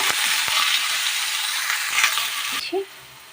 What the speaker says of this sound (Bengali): তো আমরা ভালো করে নাড়াচাড়া করে এবার একটু ঢাকা দিয়ে দেবো